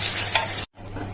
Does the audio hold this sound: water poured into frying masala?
yes